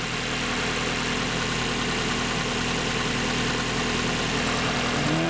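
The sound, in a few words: 1994 Mazda Miata engine running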